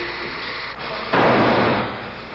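Firecrackers go off during a West Berlin mounted police training drill with officers acting as demonstrators, heard as a dense, loud crackling burst that swells over a continuous rough background noise and then fades slightly.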